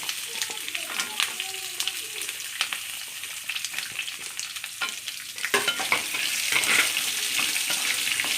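Shallots and garlic sauté in a pan for a capsicum chutney, crackling in a steady broadband sizzle with scraping stir strokes. The sizzle swells louder toward the end, and faint speech is heard briefly.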